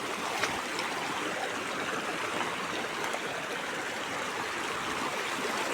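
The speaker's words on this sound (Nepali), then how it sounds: "हाम्रो खोलो यसलाई के भन्छ पाती खोलो।" Pati Kholo, a small mountain stream, rushes steadily and evenly throughout at moderate loudness, a continuous broadband wash of flowing water with no voices.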